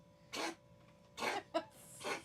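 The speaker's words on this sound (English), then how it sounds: "He's just coughing." A pet coughs in a few short, harsh bursts with brief pauses between, close by and fairly faint.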